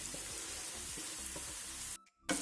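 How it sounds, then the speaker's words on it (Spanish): Pepper and zucchini frying in a pan for homemade tomato sauce: a soft, steady sizzle with faint stirring scrapes that cuts out briefly near the end, then returns. "Vamos a poner ya también todo el pimiento y el calabacín, que se cocine toda la vez."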